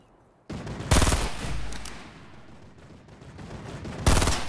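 Gunfire in the Fortnite video game: two sharp loud bursts of rapid automatic shots, one near the start and one at the end, with a rumbling lower-level tail between them.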